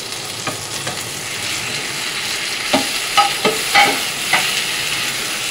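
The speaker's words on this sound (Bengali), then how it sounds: "মাছ যেগুলো ভেজে রেখেছিলাম সেটা এক এক করে সব মাছগুলো এর মধ্যে দিয়ে দেবো।" Pieces of already-fried fish go into a hot pan of cooking oil and are stirred. A steady close sizzle continues throughout, with several sharp utensil clinks and scrapes in the second half.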